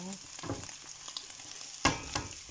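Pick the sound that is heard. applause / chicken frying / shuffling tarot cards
chicken frying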